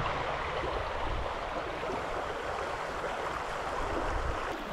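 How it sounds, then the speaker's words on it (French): A small stream flows with current near a pool of water, producing a steady, close wash of rushing water that continues unbroken, with no talking. "il y a du courant avec un trou d'eau"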